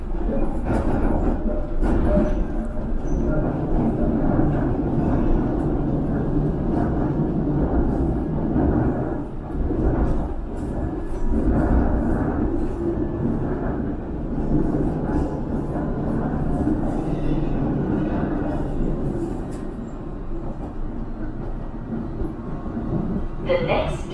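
A London Underground District Line S7 train rumbles steadily along, loud and continuous, with wheel and track noise throughout and voices mixed in.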